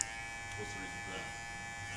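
An electric hair trimmer running during a haircut gives a steady, low, continuous buzz throughout, while people talk quietly over it.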